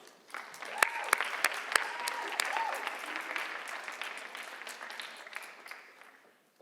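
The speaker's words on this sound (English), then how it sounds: "Let's give a big round of applause for our student poet today" An audience at a high school writers expo applauds for a student poet, a full round of clapping with a few sharp nearby claps early on, swelling then fading out.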